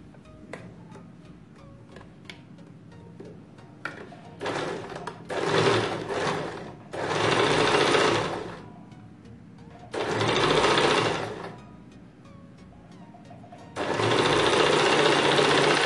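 Sewing machine stitching kurti fabric and lining together, running in several loud bursts of steady whirring separated by quieter pauses with faint ticking handling sounds.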